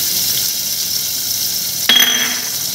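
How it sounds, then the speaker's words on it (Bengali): Grated garlic and ginger hit hot white cooking oil, bursting into a sudden loud sizzle partway through after a steady low hiss, then crackling on continuously. "তেলের মধ্যে এবার আমি দিয়ে দেবো এখানে রসুন আর আদা আমি গ্রেট করে রেখেছি"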